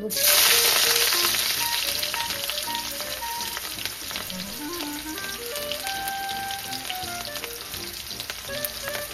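Onion goes into hot oil in a pan and bursts into a loud, close sizzle that peaks at the start and then settles into a steady crackling fry for the rest of the clip.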